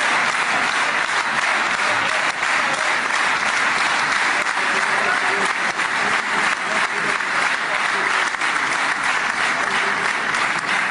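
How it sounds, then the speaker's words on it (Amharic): A large audience applauds loudly and continuously, dense clapping sustained without a break. "የሁሉ ጭብጨባ"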